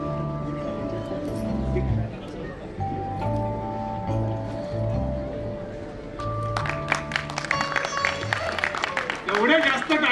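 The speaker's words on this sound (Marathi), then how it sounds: "एवढ्या जास्त टाळ्या" Applause from an audience at a Konkan festival, a burst of clapping that swells in the later part, mixed with background music and a voice speaking over the event sound.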